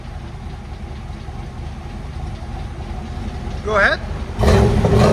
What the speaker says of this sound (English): This is what it sounds like with these tips.